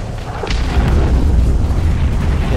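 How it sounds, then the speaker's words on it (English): Missiles fired in the Starsector space combat game explode in a dense, rumbling barrage of loud booms with no clear gaps between blasts. "Follow up my missile spam with my real missile"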